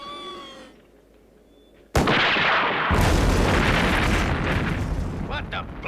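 A building being demolished by a sudden loud explosion from a TV series, starting with a sharp onset after a quiet stretch. It swells into a sustained, roaring rumble that stays loud throughout with no talking.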